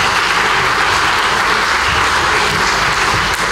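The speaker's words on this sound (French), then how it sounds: "sous les applaudissements de la foule en délire" Audience applause welcoming a speaker at a stroke symposium, a dense steady clapping from a large crowd, loud and sustained throughout.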